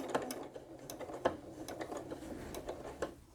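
A sewing machine stitching in the ditch on a quilt, with soft, irregular mechanical ticks and clicks over a low motor hum, fairly quiet and close.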